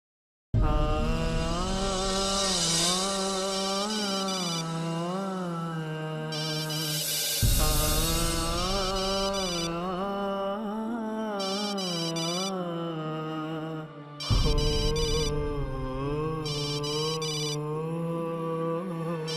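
A mobile phone ringtone playing loud and close, a repeating melodic ring pattern that cuts off briefly and restarts twice, with no talking over it.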